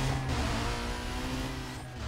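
A car engine roars under nitrous boost in the racing game Need for Speed Most Wanted, a loud, steady, tonal drone that holds strong across the whole moment with no talking.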